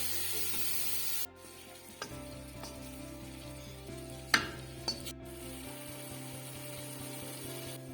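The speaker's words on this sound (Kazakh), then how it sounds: "Ең алдымен етті салып жақсылап қуырамыз." Minced meat fries in vegetable oil in a pan with a steady, close sizzle, broken by a few light stirring clacks and scrapes, over a faint background hum, no talking.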